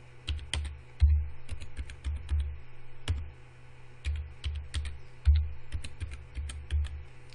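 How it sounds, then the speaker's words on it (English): Someone types a password on a computer keyboard while installing ESXi in VMware Workstation: close, crisp key clicks in quick irregular bursts with short pauses, and no talking. "I'm going to go ahead and type in a password."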